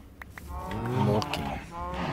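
Cattle lowing in Minecraft, a few drawn-out moos rising over a farm scene with automated milking, mixed with other game sounds and a voice talking.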